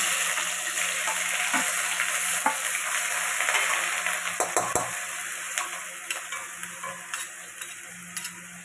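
Pieces of taro dropped into a hot pan, a continuous bright sizzle with scattered scraping and tapping clicks from stirring, growing more rhythmic toward the end, no one speaking.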